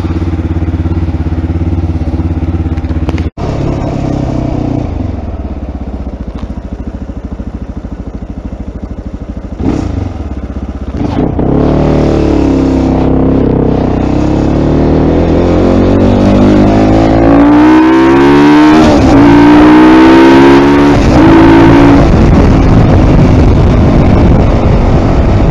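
A motorcycle engine starts on a cold morning around 2°C, then runs with rising revs and a loud, steady note that builds through the second half, alone without talk.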